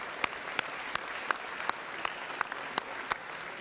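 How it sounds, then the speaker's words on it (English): Audience at a school district board of education meeting applauding, a sparse, fairly quiet patter of claps with about ten sharper individual claps standing out at regular intervals, with no voices. "Please give them a round of applause for supporting this."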